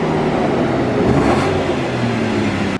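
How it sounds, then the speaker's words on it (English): Audi S8 engine revving on its stock, restricted exhaust, a loud steady mid-range drone with rising and falling harmonics throughout, heavy mechanical engine noise and little exhaust note. "give me a few revs, let me see what it sounds like stock"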